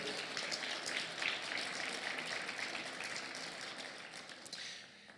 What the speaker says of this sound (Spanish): Demos un aplauso al Señor por eso.